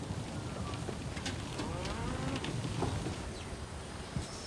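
Cattle low on an estancia in the dry Paraguayan Chaco, a drawn-out moo rising above a dense, noisy outdoor background with buzzing insects, fairly distant and steady.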